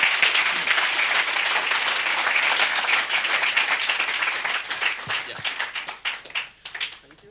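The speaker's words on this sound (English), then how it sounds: "please give big applause" Keynote audience at an app developer conference applauds steadily in a loud, dense wash of clapping that thins into scattered individual claps before fading out.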